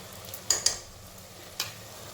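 Onion with ginger-garlic paste sautéing in a pan for chicken pulao, a low steady sizzle broken by a few short scraping stirs, close and fairly quiet.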